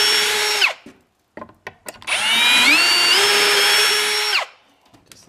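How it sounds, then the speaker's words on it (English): A power drill boring pocket holes through a wooden board set in a pocket hole jig: a short whine first, then a pause with a few clicks, then a longer, loud, steady drilling run that winds down. "So we're gonna drill some pocket holes"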